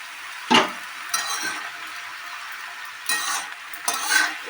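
Potato, eggplant and chopped thankuni greens stir-fried together in a pan: a constant light sizzle broken by several scraping stirs and the odd clink of a utensil against metal.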